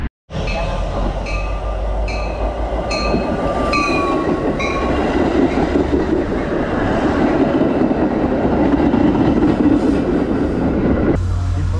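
A Chicago commuter train rumbles steadily along the rails from inside the carriage, with a continuous low roar, faint rhythmic clacks and brief high squeals throughout.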